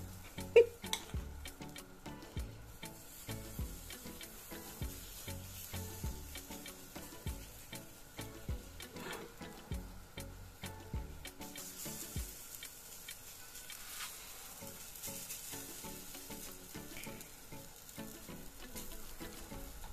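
Olive oil heating in a frying pan gives a faint, steady sizzle with soft irregular ticks and pops throughout, quiet and alone with no talking.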